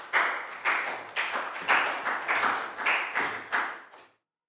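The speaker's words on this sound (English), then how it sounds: "High five and a big round of applause for Prau" A small class of children claps for a classmate during a primary-school English lesson, a series of about eleven distinct, close group claps in a loose rhythm, each decaying quickly, ending abruptly in silence.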